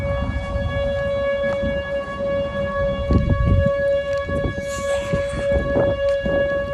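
Outdoor tornado siren test at the University of Oklahoma, a sustained droning wail holding a steady pitch, moderately distant, with footsteps and handling noise over it.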